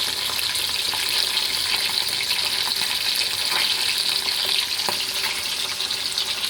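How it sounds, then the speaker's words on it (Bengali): Loud, continuous crackling and hissing of parshe fish frying in hot oil, dense and steady throughout, with no voices. "দেখুন, পার্সেগুলো আমি ভেজে নিচ্ছি।"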